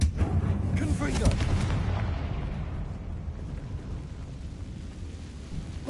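The Confringo fire spell blasting in Hogwarts Legacy, a deep explosive burst with crackling debris right at the start that rolls off into a fading low rumble.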